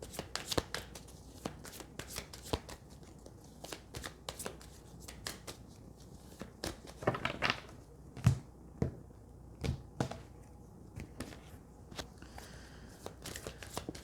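A tarot card deck being shuffled: a steady run of sharp, crisp riffling clicks and snaps, close and fairly loud, with no talking.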